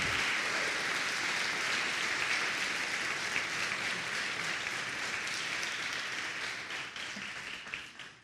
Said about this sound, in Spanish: Aplaude al Señor mientras yo tomo agua.